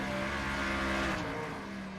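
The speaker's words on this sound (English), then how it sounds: "with 13 cars out on the track trying to get these qualifying times in" Engines of NASCAR Cup race cars in iRacing, on track at South Boston Speedway during qualifying with 13 cars running, hold a steady, loud droning whine with layered tones throughout, no talk.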